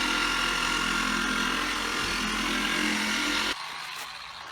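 A machine polisher hums steadily while buffing car paint to remove swirl marks, then drops to a quieter, lower-speed whir near the end; no talking.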